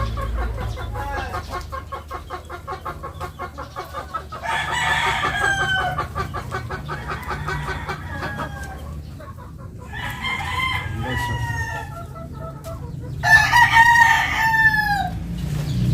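Several chickens cluck and a rooster crows loudly near the end, with steady farmyard background noise throughout.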